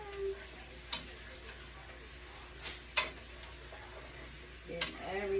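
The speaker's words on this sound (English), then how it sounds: "Give everything a nice stir" Potatoes frying in butter and a little oil are stirred in a pan, a soft continuous sizzle under a few scraping knocks of the utensil against the pan, close and without speech.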